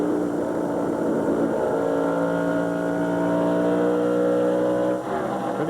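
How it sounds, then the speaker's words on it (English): A NASCAR stock car's engine at the 1999 MBNA Platinum 400 holds a steady, droning tone through a corner, then dips briefly near the end as the throttle comes back up, loud and unaccompanied by talk. "Now listen how far he goes through the corner before he picks the throttle up again."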